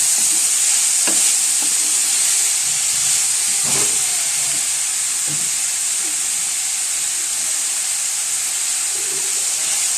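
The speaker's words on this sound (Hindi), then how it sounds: "इसको अच्छे से फ्राई कर लें।" Mixed vegetables frying in a pan for potato cutlets, a loud, steady close sizzle and hiss with a few sharp stirring clacks, no speech.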